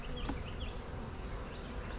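Honeybees buzz steadily around an open hive during an inspection of a weak colony, a soft continuous drone with individual bees flying close past, alone without talk.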